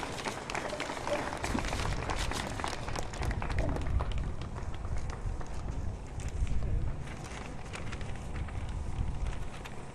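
Outdoor crowd applause for a provincial minister at a World AIDS Day event in Zambia, a sustained rough patter of many hands with wind buffeting the microphone and low rumble throughout.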